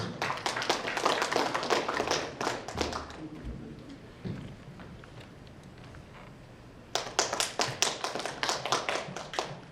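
A conference audience applauds to welcome a speaker at an international safety tourism conference opening ceremony: a burst of dense clapping that fades to near quiet, then a second strong round of applause, fairly close and with no speech over it.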